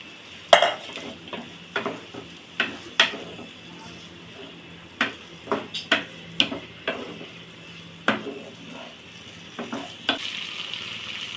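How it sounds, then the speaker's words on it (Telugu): Prawns fry in oil with tomato over a steady low sizzle, broken by a string of sharp spoon-on-pan clacks and scrapes as they are stirred. "ఇప్పుడండి ఇవి కొంచెం బాగా ఫ్రై అవనివ్వాలి ఈ రొయ్యల్ని ఈ నూనెలోనే"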